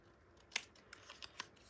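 Scissors snip through a paper phrase cut-out for a wedding album page, a few quick, crisp separate cuts close by, the sharpest one early and lighter snips following.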